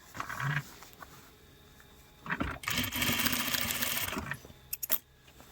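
A sewing machine stitching a straight seam along a bedskirt hem, with fabric rustling first, then a close burst of about two seconds of fast mechanical whirring, followed by a few clicks and handling noises.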